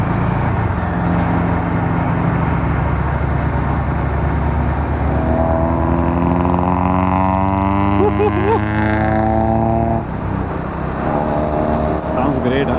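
Loud, steady engine roar from a motorcycle fitted with a loud aftermarket exhaust and a Type R badge, rising in pitch as it revs and holding close, then dipping briefly near the end.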